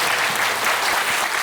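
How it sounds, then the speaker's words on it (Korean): Lecture-hall audience applause, a short burst of dense, steady clapping close and loud throughout. "여러분 박수 부탁드립니다."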